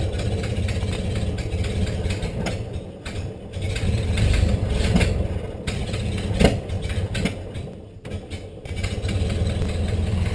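A 1930 Ford Model A engine running rough after sitting 37 years, a loud close mechanical clatter with uneven rhythm, brief dips and surges as throttle is tried, no voices.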